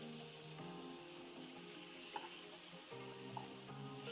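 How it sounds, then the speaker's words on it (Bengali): Eggplant slices fry in oil in a pan with a steady, quiet sizzle that runs throughout, broken by a few faint clinks. "এবার এই পাশটা আবার হালকা করে ভেজে নেব"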